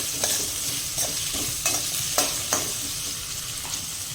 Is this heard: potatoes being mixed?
yes